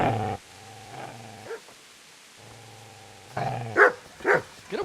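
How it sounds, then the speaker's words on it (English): A dog in Kingdom Come Deliverance growls low and steadily in drawn-out bursts, then breaks into several loud, sharp barks near the end, with no talk. "Get away, you mutt!"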